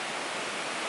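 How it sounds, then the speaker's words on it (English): A jungle waterfall near Pai, Thailand, rushing as a dense, steady broadband roar, fairly loud and continuous with no talking. "the most beautiful waterfall I've ever been in"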